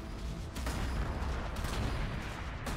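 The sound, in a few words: gunfire shooting at a motorbike in video game Warhammer 40k: Gladius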